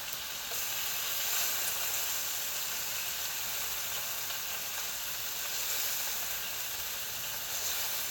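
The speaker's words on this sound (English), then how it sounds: "You could probably hear the sizzle here." Bacon sizzles in a frying pan over slightly above medium heat, a steady close hiss and crackle of fat running unbroken, with no one talking.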